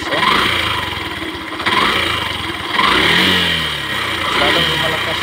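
A Yamaha YTX 125 motorcycle engine fitted with an oil cooler revs up close by, its loud buzzing note climbing and falling in several surges while someone talks over it.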